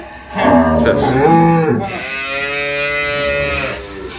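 An improved-breed dairy cow at an agro farm gives a loud, close moo, a short rising call followed by a longer sustained bellow.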